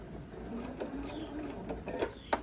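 Sewing machine stitching quilt binding out to a corner at a 2.0 stitch length, a steady close mechanical whir with a rhythmic needle chatter, running alone without speech.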